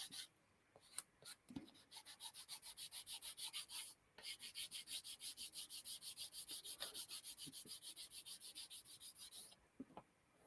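Fine 400-grit sandpaper rubbed along the edges of a small model, a close, quiet series of rapid rhythmic back-and-forth strokes in two long runs, with a few light taps in between.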